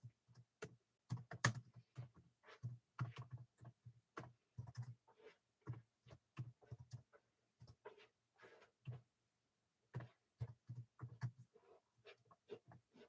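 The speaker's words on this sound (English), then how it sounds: "I'm typing one-handed." Faint bursts of computer keyboard typing, done one-handed, come in irregular clusters of soft clicks with short pauses between them, in a quiet room.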